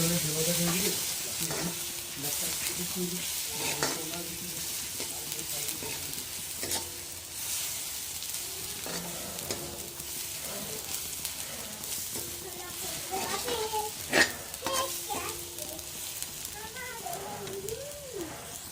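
Cumin and turmeric, with chilli powder, frying in a pan for a fish and taro-stem curry, giving a steady sizzle broken by repeated stirring scrapes, with light talk and a few bird calls in the background.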